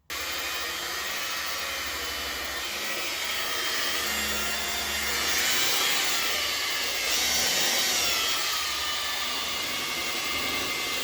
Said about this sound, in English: I use a DeWalt buffer. It's variable speed.